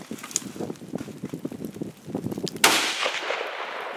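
A single sharp gunshot rings out outdoors during a fall turkey hunt and is followed by a decaying echo, after several seconds of wind and rustling.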